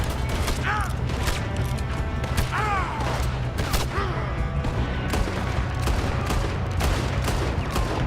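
Gunfire in a Red Dead Redemption 2 shootout, with repeated broadband shots and cracks scattered across the clip over a constant low rumble. Occasional voices are mixed in.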